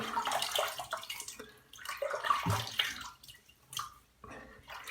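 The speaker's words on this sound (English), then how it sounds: "Let me just wet my face again a little bit." Water splashes in irregular bursts as a face is wetted at a sink before shaving, close and fairly quiet, with short pauses between splashes.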